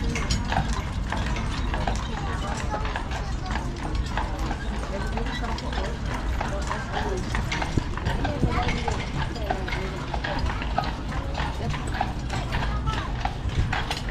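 Carriage horses being hitched to a tour trolley in Old Town Wilmington, North Carolina, clop their hooves steadily and close by for the whole stretch, mixed with clanking harness and gear noises and some voices nearby.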